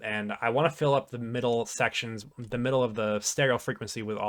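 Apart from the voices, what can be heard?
None of the usual background noises is heard.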